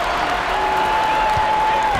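Simulated arena crowd in NBA 2K23 roaring for a double-clutch dunk during a Warriors vs Bucks basketball game, a steady dense wash of cheering and applause at constant loudness with a sustained whistle-like tone running across it.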